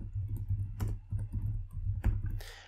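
Typing on a computer keyboard into a search bar: a quiet, irregular run of key clicks with a few sharper taps, close and alone with no voices.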